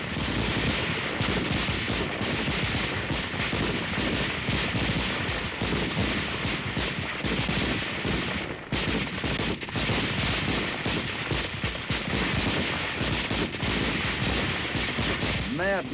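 Soldiers in an American army division fire their weapons together in a firepower demonstration, producing a continuous loud roar of overlapping gunshots, machine-gun bursts and heavier booms with no letup across the whole stretch.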